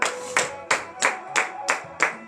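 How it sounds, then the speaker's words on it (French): Rhythmic clapping from a church congregation at a morning prayer service, six sharp, evenly spaced claps in a steady beat, with faint tones and voices sounding between them. "Donnez de vive acclamation à l'Éternel"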